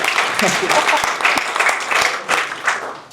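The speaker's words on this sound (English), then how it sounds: "I've never seen so many claps in my life." Guests at a wedding reception clap loudly and continuously, a thick, close round of applause with a few voices and cheers rising through it.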